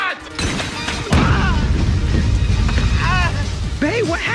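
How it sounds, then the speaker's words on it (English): A single heavy boom of a video game gunshot bursts at about one second and rumbles on, with people talking over it before and after. "Okay, I'm taking the shot."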